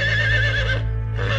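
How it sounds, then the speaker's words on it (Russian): A horse neighs outside in an animated cartoon, a loud, close, wavering whinny that dips briefly near the end before rising again, with no talk over it. "Это конь снаружи ржет."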